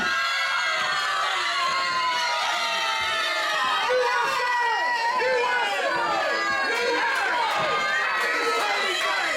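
Dense, loud crowd noise at a professional wrestling show, a steady wall of jeering and shouting voices with scattered whoops that fills the whole stretch without letting up.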